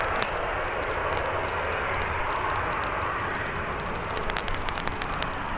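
A Ryanair airliner at Birmingham airport gives off a steady, distant jet roar that holds without a break, with faint crackling noise over it.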